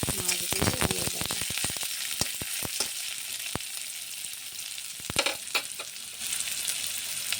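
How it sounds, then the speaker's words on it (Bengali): Onions fry in hot oil with small puti fish, a steady sizzle punctuated by sharp spatula clicks and scrapes, clustered early and again later, close and alone. "পেঁয়াজগুলি লাল হয়ে ভাজা হয়ে গেলে তারপরে মাছগুলি দিয়ে দেব।"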